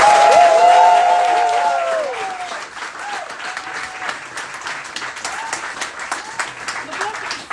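Audience applause at a book launch for a guide on fighting antisemitism, loud at first and then tapering into steady, sustained clapping from a sizable crowd, with a voice speaking over the opening seconds.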